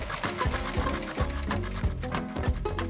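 Cartoon lawn mower cutting grass in a garden, a loud continuous mechanical buzzing drone with a regular chugging pulse running throughout.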